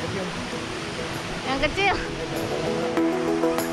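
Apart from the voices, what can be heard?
Ciismun waterfall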